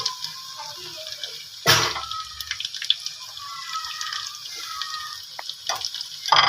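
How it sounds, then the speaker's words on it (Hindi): Beef kofta balls fry in a pan of oil, a steady soft sizzle with a few louder clinks and stirring knocks near the start and end, and no talking. "बाकी जो रह गए वो भी मैं इसमें ऐड करती हूँ, फ्राई करती हूँ"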